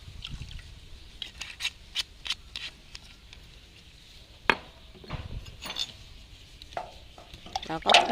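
A homemade garden pesticide mixture with energy drink among its ingredients being stirred in a container, a series of close, irregular clinks and scrapes of utensil against vessel.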